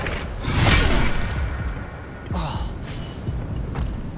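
Incendio fire spell cast in Hogwarts Legacy: a loud whooshing burst of flame rushes out and fades, followed by a second, shorter swish, with a voice calling out over the effects.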